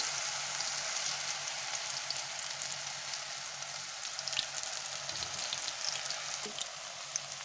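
Onion pakoras frying in a pan of oil over a low flame, a soft, even crackling sizzle with scattered pops, fairly quiet and steady throughout.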